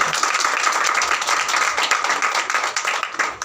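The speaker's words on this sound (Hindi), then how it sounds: "यीशु मसीह के लिए जोर से ताली बजा दें।" A church congregation claps loudly together during a Hindi-language Christian sermon, a dense sustained patter of many hands at close range, continuous for several seconds with no speech over it.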